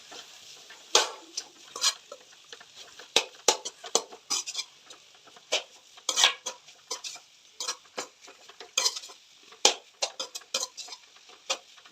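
A spoon scrapes and clinks against a pan while spices are stirred into vegetables for fried rice, irregular close taps and knocks with a light sizzle underneath and no speech.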